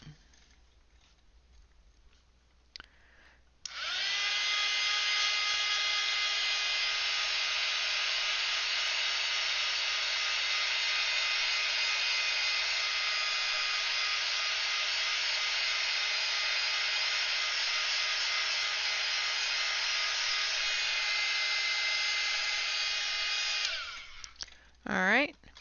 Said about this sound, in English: now we're going to dry it out